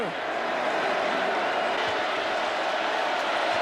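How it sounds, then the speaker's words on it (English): A crowd cheers in a football stadium during Texas A&M at Georgia, a broad steady roar that holds at one level, with a commentator talking over it. "Everybody's cheering it, too."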